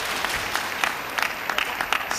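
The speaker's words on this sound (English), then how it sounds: "Stands up to applaud his player." Applause from spectators at a professional table tennis match: a short, steady burst of crowd clapping with scattered sharper individual claps, moderately loud throughout.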